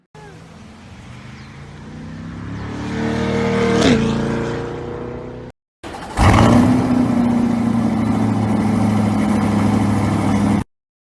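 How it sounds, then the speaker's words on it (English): Chevrolet C8 mid-engine Corvette engine and exhaust, first building from a steady rumble into a rising rev that peaks and cuts off, then a sharp loud startup bark settling into a sustained close, throaty idle. "Here's another video demonstrating exactly what that C8 is going to sound like."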